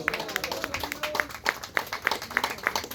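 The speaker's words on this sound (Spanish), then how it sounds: "Denle un fuerte aplauso a Jesucristo," A congregation at a church wake gives sharp, scattered handclaps in an uneven rhythm, fairly close, with faint voices underneath.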